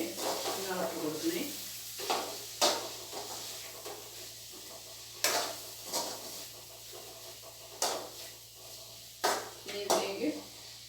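Spoon stirring half a teaspoon of black pepper and chilli and coriander powders into a sizzling chicken curry, with repeated scraping clinks against the pan every couple of seconds over soft frying, while a person talks throughout.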